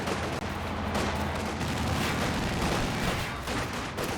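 Mortar shells burst in a Company of Heroes 2 2v2 match, dense booming impacts layered over continuous battlefield gunfire and rumble, loud and sustained.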